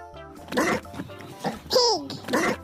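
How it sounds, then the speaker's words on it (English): A pig oinks and squeals in a few short, close, loud bursts, with grunting pulses and one rising squeal. "Pig."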